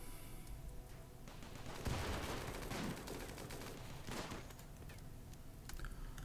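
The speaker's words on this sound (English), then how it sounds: "Are you firing at Penelope? Yes, you are." Gunfire in the colony-building game Rimworld, heard as a dense, fairly quiet stretch of rapid shots with a couple of louder bursts, all at a steady low level with no talking.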